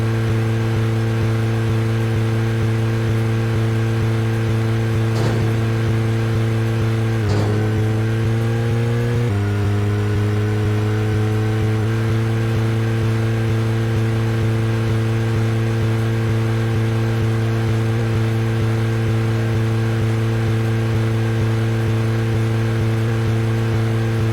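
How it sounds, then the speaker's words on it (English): A steady car engine drone in the video game Deadly Premonition hums throughout, its pitch shifting briefly as it revs and changes gear, then settling into a constant mechanical whine. "The director's cut version comes with a faster DLC car."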